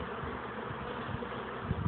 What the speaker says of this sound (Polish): to jest pszczoła